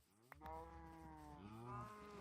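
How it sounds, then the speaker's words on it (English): Cows in Minecraft let out a long, close, drawn-out moo, clear and alone, with a sliding pitch near the end. "Thank you, cows, for saving me."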